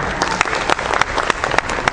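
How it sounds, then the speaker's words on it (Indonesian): Audience applause following a violin performance, dense and loud clapping that holds steadily for two seconds, with a few sharper individual claps standing out near the front. "Sekali lagi dong tepuk tangannya."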